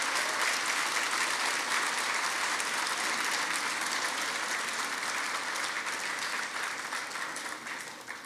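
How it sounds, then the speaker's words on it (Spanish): A church congregation claps together for the Lord, dense sustained applause filling the room, steady throughout and tapering slightly at the end. "Dale un aplauso al Señor si lo vas a hacer"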